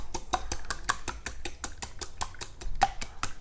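Egg yolks are whisked in a bowl for chamomile honey cakelets, giving a quick, even run of light metallic ticks against the bowl with no talking.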